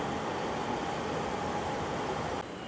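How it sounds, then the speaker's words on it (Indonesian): A Bekasi Line commuter train rumbles at a busy station with a steady, close hum and hiss that holds evenly, then drops slightly in level just before the end. "Jadi ini adalah kereta Bekasi Line."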